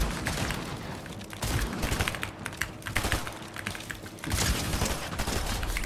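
Assault rifle in a video game firing in rapid, continuous bursts, a dense crackling stream of shots with brief gaps, loud and close throughout.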